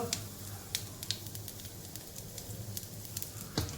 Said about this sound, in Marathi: तूप थोडंसं गरम झालं का जिरं टाकायचं हिंग